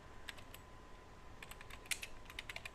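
Tags are typed on a computer keyboard in a WordPress blog editor. Soft, close keystrokes come in short irregular bursts, faint against a quiet room hum, with no talking.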